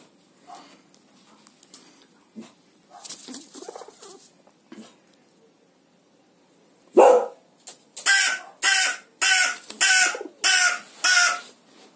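A crow caws repeatedly in a loud, close series of harsh calls, preceded by quieter scattered rustling and small noises.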